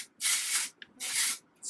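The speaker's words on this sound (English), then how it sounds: "spray it up into my hair to kind of provide that volume there" Two long hissing bursts of Bumble and Bumble Thickening Dry Spun Finishing Spray aimed up into hair, close and fairly loud, separated by a short pause and a small click, with the start of a third burst at the end.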